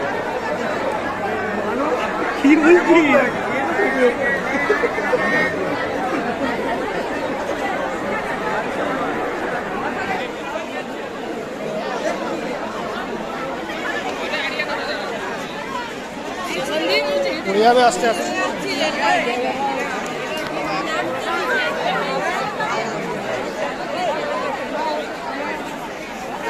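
Dense crowd chatter fills a packed railway station at Kalyani during Durga Puja, a steady close babble of many voices with occasional louder calls and nearby speech over the hubbub.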